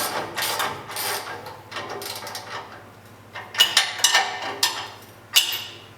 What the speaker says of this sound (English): Tighten this motor down.